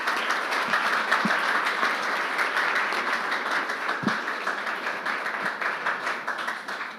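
An audience applauding panelists at a medical wellness panel event, a sustained even patter of many hands clapping throughout, moderately loud with a few sharper individual claps standing out.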